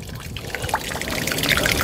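Water runs steadily from an open pipe while a non-return valve is fitted to the line, a continuous close pouring and trickling splash with no voices.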